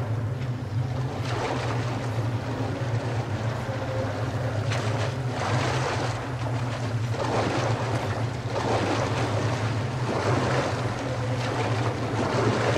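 A river flows steadily in Metro Last Light, with a continuous rushing wash over a low rumbling drone and occasional swelling surges, with no speech.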